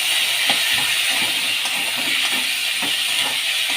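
Potatoes frying in a pan with ginger, chilli powder, cumin, turmeric and slit green chillies, a steady close hiss and sizzle with faint crackles throughout, no voices.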